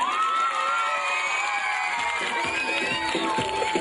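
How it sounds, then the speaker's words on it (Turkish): An audience at a memorial concert cheers and whoops in a continuous loud crowd roar, with high shouts and whistles on top and scattered claps emerging toward the end. "bir alkış alabilir miyim acaba?"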